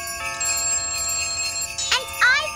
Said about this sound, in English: Yes! More jingle bells!